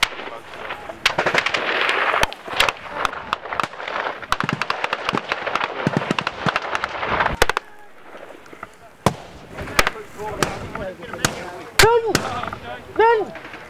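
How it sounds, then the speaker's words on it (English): Sharp, loud gunshots crack in irregular bursts during a Falkland Islands Defence Force annual live-firing troop-attack exercise, with some reports spaced apart and others in quick clusters, and shouting voices rising between the shots. "The live firing exercise is held each year, a crucial event to ensure all members in FIDF are refreshed with carrying out troop attacks."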